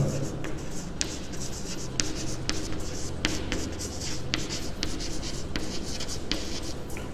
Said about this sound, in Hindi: अब मैं लिखता हूँ